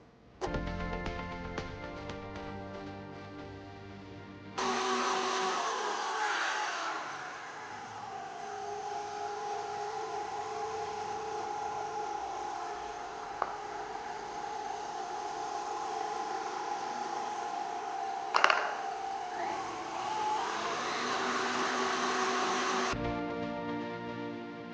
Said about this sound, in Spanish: Lo vamos a batir aproximadamente por 3 minutos.